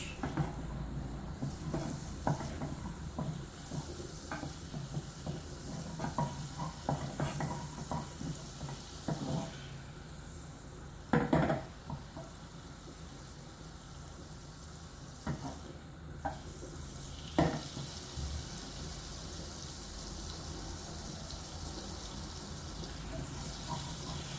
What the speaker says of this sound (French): je vais prendre du beurre que je vais mettre dans une casserole. Et je vais le mettre sur le gaz pour faire fondre le beurre